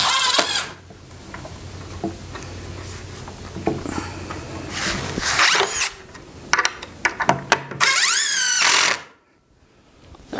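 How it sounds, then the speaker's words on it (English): Screws driven into a DIY wooden printer table while attaching its legs: close, loud bursts of a power driver whirring with short pauses and clicks between, then a sudden drop to near quiet at the end; no talk. "So I'm only going to put one screw in here, and I'm going to square the second one, and then I'll screw the rest of it in."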